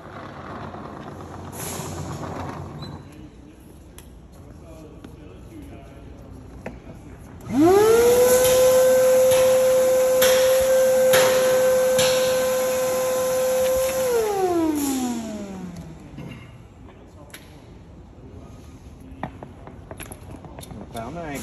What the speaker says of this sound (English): Now we're gonna vacuum all the dust out,